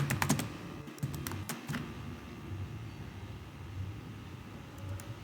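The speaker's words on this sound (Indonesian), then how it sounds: "di sini saya akan coba ketikkan youtube.com" Someone types a web address on a computer keyboard, a quick burst of close key clicks at the start followed by a few scattered taps over a low steady hum.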